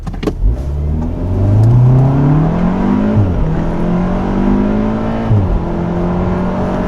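A Volkswagen Golf R engine roars loudly from a standstill in comfort mode without launch control, revving hard and climbing through two gear changes as it accelerates, close and continuous.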